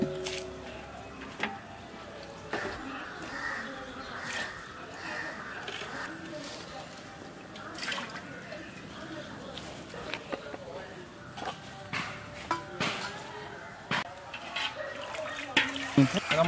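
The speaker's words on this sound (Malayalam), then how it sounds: "അതിൻ്റെ അകമെല്ലാം കഴുകി അകമെല്ലാം കഴുകി" Water is rinsed and sloshed through hollow bamboo pieces before cooking a chicken biryani inside the bamboo, producing uneven trickles, splashes and knocking taps, with a person talking throughout.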